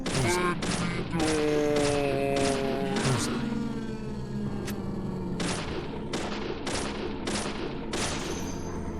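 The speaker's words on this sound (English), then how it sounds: "A grenade of some sort. That's sick. Nice shot." In the video game Deadly Premonition, a rapid series of sharp gunshots rings out in two clusters, with a heavy grenade-like boom rumbling underneath, loud and close with no voices.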